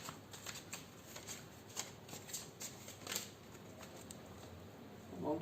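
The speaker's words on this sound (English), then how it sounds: "I'm just going to pull out the cards." Tarot cards from a modern mystic deck being drawn and slid off a freshly shuffled pile, a steady series of soft, close papery flicks and rustles with no talking.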